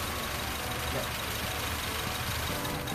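A Honda Civic FD engine idles with one ignition coil plug pulled, giving a steady, continuous low rumble close by with no talking over it.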